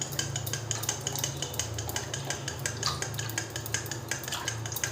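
A dal whisk swirls milk for sweet red doi, giving quick, continuous scraping and clinking against a metal pot, close and steady, with no talk.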